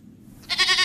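A goat bleats once in a loud, drawn-out, quavering cry that starts after a near-silent lead-in and holds to the end, heard alone with no talking.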